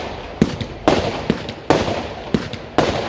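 A 64-shot firework cake going off outdoors, a steady series of loud bursts and crackles about every half second, each shot followed by a lingering rumble, with no talking.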